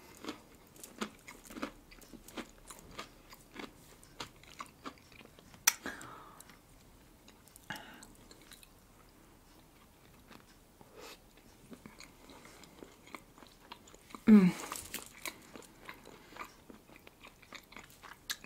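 Close, quiet chewing and biting of red caviar and salmon sandwiches, soft wet crunches and clicks repeating steadily, with one louder bite partway through.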